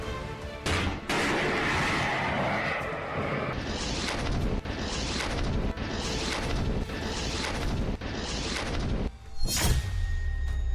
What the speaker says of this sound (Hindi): यह हिंदुस्तान की फायर एंड फॉरगेट यानी दागो और भूल जाओ man portable anti tank guided missile है।